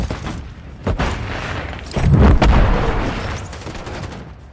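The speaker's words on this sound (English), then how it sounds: "Hostile mortar strike near your position." Mortar strike explosions land near the player in a military shooter video game, a sharp boom followed by a heavier, rumbling blast that fades slowly into a long, dense tail.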